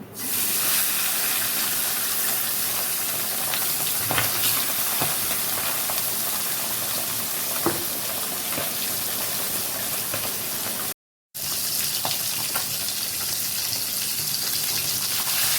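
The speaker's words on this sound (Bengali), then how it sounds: "তেল গরম হয়ে গেছে এবার আমি মাছগুলো এক এক করে ভেজে নেব" Steady, dense hissing sizzle of fish frying in hot oil, loud and continuous with occasional pops and a brief silent gap near the end.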